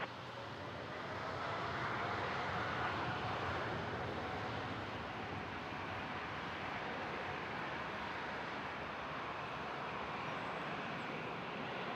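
A China Southern heavy airliner takes off from Toronto Pearson runway 23 in gusty wind, its engines a steady, broad roar that holds for several seconds.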